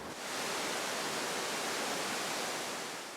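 Pheasant Creek and Niagara Creek falls in Oregon, a pair of waterfalls roughly 112 and 107 feet high, make a steady, broad, hissing roar that fades in and holds evenly without a break.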